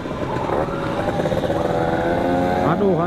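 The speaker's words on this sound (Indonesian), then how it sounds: "Knalpot bising." A loud motorcycle engine with a noisy aftermarket exhaust roars close by in traffic with a rough, throbbing exhaust, rising in pitch near the end as it revs.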